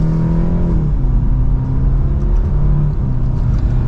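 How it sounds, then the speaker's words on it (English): A 2025 BMW 530i M Sport pulling away in sport mode in second gear, its engine rising in a steady smooth rumble heard from inside the cabin, continuous and fairly loud, no talking. "Nice mild acceleration"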